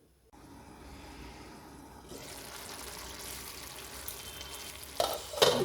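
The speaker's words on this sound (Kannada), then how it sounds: "ಇದನ್ನು ನಾವು ಒಂದು ಸ್ವಲ್ಪ ಹೊತ್ತು ಚೆನ್ನಾಗಿ ಬಾಯ್ಲ್ ಹಾಕಕ್ಕೆ ಬಿಡೋಣ" Potato-based Bombay chutney cooking in a pot, with a soft steady bubbling sizzle that grows louder partway through, ending with a few sharper spatters or stirring sounds.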